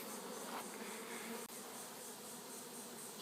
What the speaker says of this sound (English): there's a few thousand bees in the air that don't belong to any of these boxes here